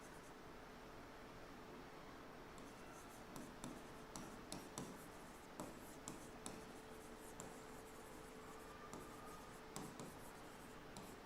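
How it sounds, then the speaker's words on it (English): Chalk or pen writing on a board during a Java programming lesson, with short scratchy strokes and taps in irregular bursts over a steady faint hiss, close and quiet, with no talk. "let me just write down the question for you"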